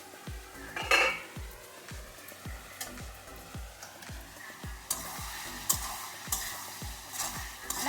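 Pumpkin and prawns with salt being stir-fried in a pan, a steady soft sizzle under a regular rhythm of close spatula scrapes and clinks, about two per second, with a sharper clatter near the start.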